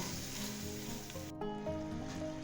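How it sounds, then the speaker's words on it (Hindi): Chicken sizzles and fries in a large pot while cooking for chicken haleem, a continuous close hiss with a low steady hum underneath and no voices. "और ये देखिए जी चिकन फ्राई हो चुका है हमारा"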